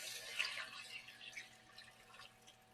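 Water trickles and splashes into a Dutch oven while chicken is being prepared, a faint, uneven pouring with small drips close by and no talking.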